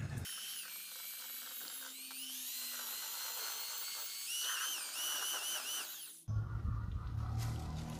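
A power drill with a mixing paddle whirs steadily as it stirs plaster and resin in a bucket, its high whine rising and falling under load. The motor stops, and scraping and handling noises follow.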